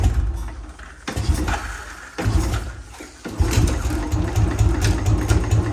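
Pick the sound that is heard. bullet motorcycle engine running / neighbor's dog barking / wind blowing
bullet motorcycle engine running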